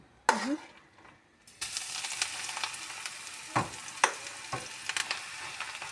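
After a brief clink and a pause, batter poured into a hot pan starts a loud steady sizzle of frying abruptly, which continues with occasional scraping taps from a utensil.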